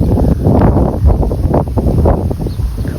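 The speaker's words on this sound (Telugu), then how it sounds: "చాలా చల్లగా గాలి వస్తుంది ఇక్కడ" Cool wind gusting outdoors in a village, roaring steadily against the microphone with low buffeting rumble, loud and continuous with no talk.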